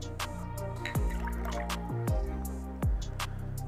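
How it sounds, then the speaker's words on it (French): Water is poured into a glass of coffee-tinted water, giving a close, steady liquid trickle with a few drip-like splashes that rise in pitch as the glass fills. "Maintenant je vais rajouter un peu d'eau."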